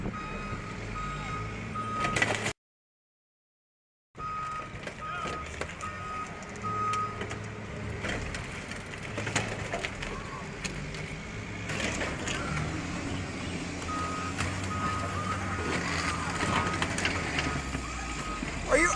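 A snow plow truck backs up with a loud, regular reversing beep repeating nearby, briefly cut to silence early on, then resuming alongside engine rumble and scraping, with faint voices in the background.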